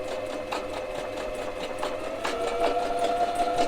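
A sewing machine aboard a boat runs steadily with a whirring mechanical hum and rapid stitching rhythm, fairly close, picking up speed slightly toward the end.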